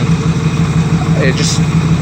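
A worn, previously raced 1979 Camaro Z28 V8 runs steadily near the microphone, a loud, even low rumble close to idle with a brief higher whine rising midway.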